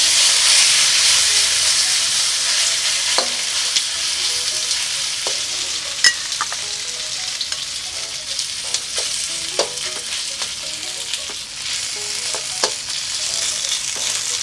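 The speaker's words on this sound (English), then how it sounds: "Just let the wok get hot. Then I'm gonna toss in the beef." Beef hitting oil in a hot wok, a loud, steady sizzle and hiss of frying that holds throughout, with occasional sharp pops and crackles rising out of it.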